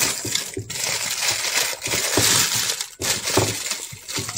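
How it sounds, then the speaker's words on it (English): Crinkly cellophane being wrapped and gathered around a gift mug, with close, continuous crackling and rustling, some sharper crunches, and a couple of brief pauses. "Now we're going to take the cellophane and just wrap it around. Just gather it like this."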